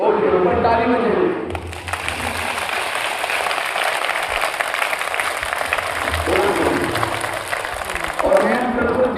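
Schoolchildren clap together at a Brahma Kumaris school session in Madhya Pradesh, a sustained burst of crowd clapping between stretches of an adult speaking, the clapping loud and continuous across the middle.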